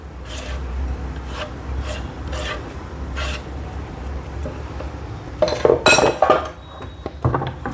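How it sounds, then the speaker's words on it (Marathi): Onion, tomato and coriander are tipped into a bowl of chana chaat with steady scraping and rubbing against the bowl, then louder clinks and clatter of a spoon toward the end, with no talking. "कांदा टोमॅटो कोथिंबीर सगळं घालूया मस्तपैकी."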